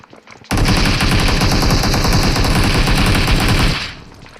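Sustained automatic gunfire in PUBG Mobile erupts abruptly and rattles loud and close for about three seconds before cutting off, with no talking over it.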